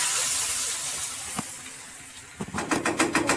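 A sudden burst of hissing sizzle as hot oil tempering is poured onto cooked lentils, crackling and spitting near the end after a quieter stretch.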